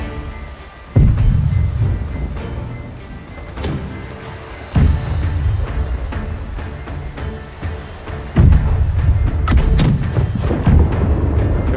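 Ship cannons firing in the naval combat game Blackwake: three heavy booms with deep low rumble, roughly four seconds apart, each trailing into a sustained roaring tail of battle noise.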